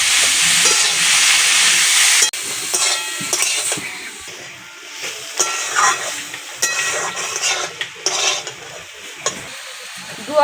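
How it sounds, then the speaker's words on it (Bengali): Boiled ash gourd greens being stirred in a pan where mustard, poppy seed and green chili were fried, steady sizzling with scraping stirs and clatters of the spoon, close and fairly loud. "এবার আমি দিয়ে দেবো সিদ্ধ করা শাকটা, ভালো করে নেড়ে চেড়ে নেব।"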